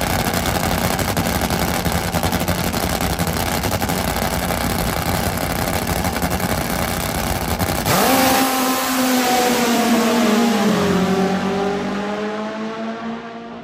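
A loud, steady Top Fuel drag motorcycle engine roar at the Virginia Nationals fills the first half, then a higher revving whine that sweeps and fades as it passes, with a crowd-like wash behind.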